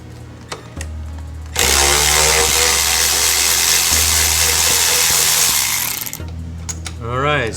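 A power tool whirs loudly and steadily for several seconds while backing out the front brake caliper bolts on a 2018 Honda Goldwing motorcycle, with brief clicks and handling noises before and after the burst.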